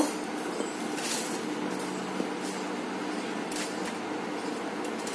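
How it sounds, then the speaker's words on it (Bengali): Electric blender grinding fried beef for a bharta, a steady continuous whirring drone with a few brief clatters, no talk. "ব্লেন্ডার নিয়ে নিয়েছি, ব্লেন্ডারে এক একে সব দিয়ে দিব।"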